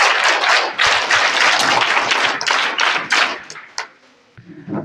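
An audience at a school alumni event applauds to welcome a chief guest, a forest officer. The clapping is dense and sustained for about four seconds, then thins out and fades to a few scattered claps.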